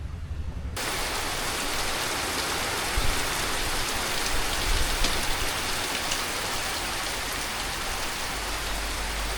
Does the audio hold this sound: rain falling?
yes